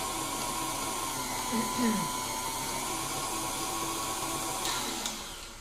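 An electric whisk whips a thickening marshmallow mixture with a steady motorized whir, fairly quiet and continuous, with faint talk at moments.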